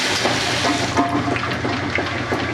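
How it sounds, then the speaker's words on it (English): A washing machine fills with water, letting out a steady gurgle and rushing flow with small bubbling pops, loud and close throughout with no voices. "I heard the gurgle gurgle. Yep, you do hear that in this machine"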